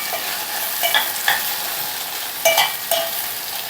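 Okra frying in a pan with a steady sizzle, broken by several sharp scraping stirs of a spoon against the pan, close and without talk.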